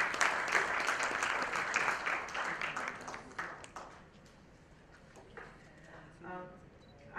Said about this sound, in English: I would like you all to give a big hand applause to our dignitaries here.